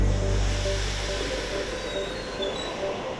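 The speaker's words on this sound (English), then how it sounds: "The next train to arrive." A train pulls into a station platform with a loud low rumble that fades, followed by hissing, faint squeals and a steady noisy hum.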